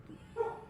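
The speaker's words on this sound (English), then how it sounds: "Apologies for the dog bark." A single short dog bark, somewhat muffled and off to the side, sounds briefly in an otherwise quiet indoor space.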